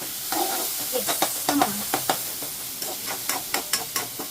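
Onion sizzles softly in ghee for a tempering while a spoon stirs the pan. The quiet, steady frying hiss is broken by a rhythmic series of sharp scraping clicks.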